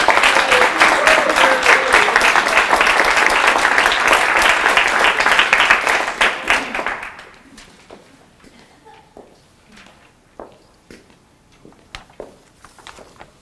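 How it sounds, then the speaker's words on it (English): Applause from an audience at a Parkland College adult literacy celebration, dense and loud for about seven seconds before thinning to scattered claps and quiet room noise. "Let's give another round of applause to all of our students, speakers, and learners."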